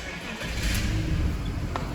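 A BMW E39 with the M54 inline-six engine cranks and fires up, settling into a low idle rumble, close by and moderately loud, with a little background voice.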